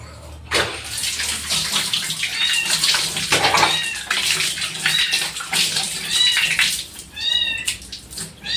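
Two orphaned rescued kittens mew repeatedly in short high-pitched cries, fairly close, over a steady background of running water filling a tub or sink.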